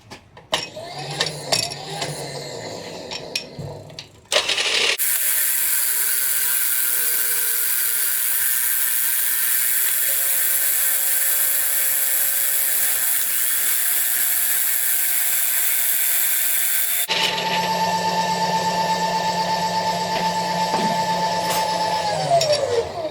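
Delrin ramp blocks being cut on a machine, taking a roughly 100-thousandths pass: a steady, loud broadband machining hiss holds for about twelve seconds, framed by quieter mechanical clatter and whirring before and after.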